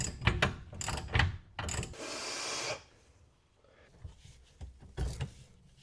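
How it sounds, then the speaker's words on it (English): A ratchet wrench tightens a rear subframe bolt on a BMW E9X, 18 or 21 mm, with quick bursts of ratcheting clicks followed by a longer rasping pull, then quieter clicking toward the end. "now we're tightening the last bolt up here"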